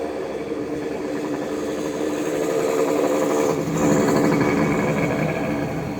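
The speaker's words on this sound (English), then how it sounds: "Sounds like somebody's riding a mini bike over here." A mini bike's small engine drones steadily from the street at a moderate distance, rising slightly as it passes, heard alone without talk.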